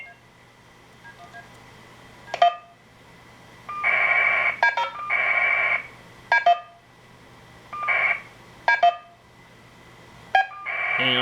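Telephone keypad DTMF tones on an analog display services line, several short and longer steady dual-tone beeps in an irregular sequence, with faint clicks and a low hum between them.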